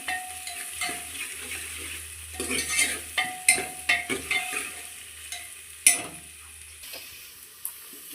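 Onions frying in a pan for a goat-head curry, a soft sizzle under repeated scraping and clattering stirs of a spoon against the pan, close and uneven.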